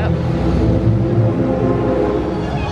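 Theme park train in the Hogsmeade area rumbling along its track, a loud, steady low clatter with a faint horn-like tone, close by.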